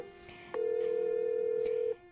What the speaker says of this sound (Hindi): रीटा जेडी को फोन लगाती है।